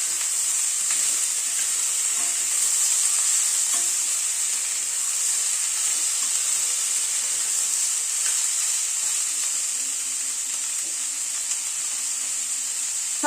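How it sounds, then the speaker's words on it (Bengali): Chopped onion frying together with vegetables in a home vegetable-stir dish, a steady bright sizzle with soft stirring scrapes throughout, close and continuous with no talk. "পেঁয়াজটাকে দিয়ে এবার সবজির সাথে একটু ভেজে নিচ্ছি।"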